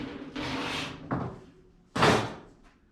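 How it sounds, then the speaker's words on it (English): A few short thunks and clacks of clamps being fastened down on a duct panel before cutting, close and distinct, with quiet gaps between them. "I'm going to clamp this thing down using clamps"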